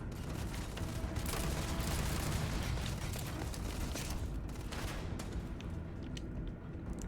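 Sustained gunfire and explosions in the video game Starfield, a dense continuous barrage of rapid shots and booms at steady loudness, easing slightly toward the end, no talk.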